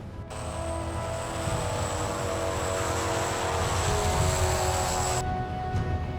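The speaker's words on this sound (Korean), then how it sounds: "경비행기에 빙하 투과 레이더 안테나를 장착하고 비행을 시작한다." A light aircraft fitted with an ice-penetrating radar antenna flies over Antarctic glacier terrain near Concordia station, a steady loud engine drone with a high whine, heard close from inside or near the plane.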